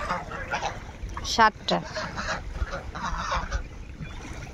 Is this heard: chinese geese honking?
yes